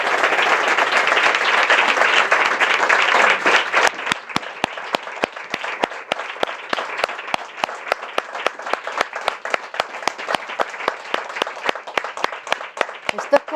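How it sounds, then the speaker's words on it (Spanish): An audience at a talk with a magistrate bursts into applause, first a thick roar of many hands, then it thins into sharper individual claps that keep going, with brief speech under it. "no se acaban los aplausos."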